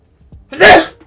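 A single loud human sneeze bursts out after a couple of faint breathy sounds, close and alone, lasting under a second.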